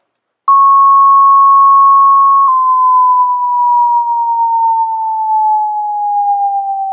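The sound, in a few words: descending pure test tone played for hearing demonstration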